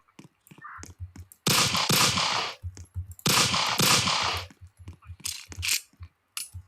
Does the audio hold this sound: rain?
no